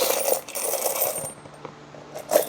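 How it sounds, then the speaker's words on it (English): A pound of coins pours into a container with a loud jangling clatter, tapering off after about a second, followed by quieter scattered clinks and a final burst of metallic rattling. "So we're going to dump in a pound of coins."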